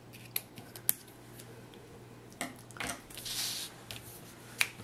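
Scissors snip ribbon for a card: a few sharp close clicks and cuts, scattered irregularly with small rustles and a soft sliding swish in a quiet room.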